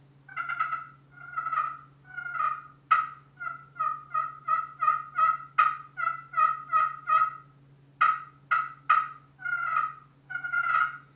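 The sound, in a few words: soft turkey call on ceramic surface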